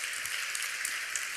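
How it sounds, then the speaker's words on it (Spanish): A church congregation applauding the Lord during a Spanish-language sermon, a brief, even patter of clapping from a moderate distance. "¿Le da un aplauso al Señor por eso?"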